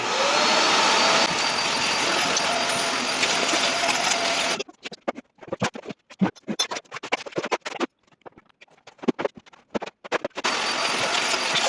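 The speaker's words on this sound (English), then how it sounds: "1400 watt vacuum cleaner. Let's get to work." A 1400-watt vacuum cleaner roars steadily, cuts out into a stretch of scraping and knocking, then starts up again loudly near the end.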